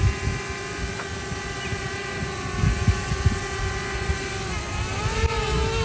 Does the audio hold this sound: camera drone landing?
yes